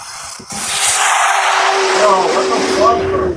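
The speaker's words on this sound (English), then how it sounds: "I said there's a bus just behind me." A large vehicle, a bus, rushes past close behind a person, a loud sustained whooshing engine and road roar with a steady hum, while a person talks over it.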